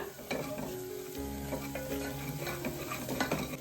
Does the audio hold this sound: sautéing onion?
yes